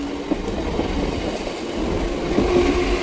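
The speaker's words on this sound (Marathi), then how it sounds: "चला ट्रेन पण आली" A train rolls past close by with a steady rumbling roar and faint clickety-clack of wheels on rails, growing slightly louder toward the end.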